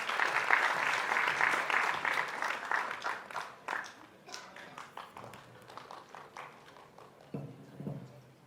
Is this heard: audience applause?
yes